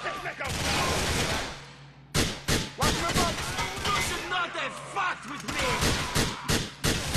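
Heavy explosive gunfire in Grand Theft Auto 4: loud bursts of shots and booms, one sustained barrage followed by a pause, then repeated rapid blasts with a voice talking among them.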